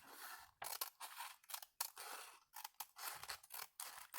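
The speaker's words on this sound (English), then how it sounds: "I'm just going to cut that off." Scissors snip repeatedly at close range, trimming the jagged edge off a paper bag in quick bursts of crisp cuts with short pauses between them.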